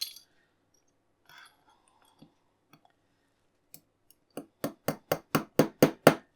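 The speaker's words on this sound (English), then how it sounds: "Get my hammer and just give it a tap on that side." A hammer taps a metal part of an Aston Martin DB5 scale model kit about eight times in quick, even succession, sharp and close, after a few scattered faint clicks.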